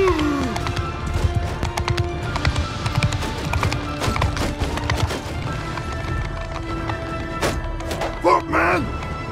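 Cavalry horses galloping in the Crusader Blade mod battle, a dense, steady drumming of hooves with clip-clop and whinnies, loud and continuous under shouted commands.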